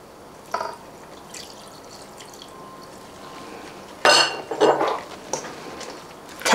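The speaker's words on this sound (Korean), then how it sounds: "잘 섞어 주시고요" A spoon or whisk clatters against a bowl while squid kimchi pancake batter is stirred with water, giving a sharp clink near the start, then a louder cluster of scraping, knocking strokes toward the end over quiet room tone.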